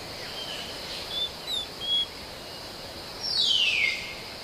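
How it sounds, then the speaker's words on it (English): Jungle birds and insects call in a quiet forest morning: a steady high insect drone underlies a few short whistled chirps and one longer descending bird call near the end. "the jungle pulses with the sounds of insects and birds"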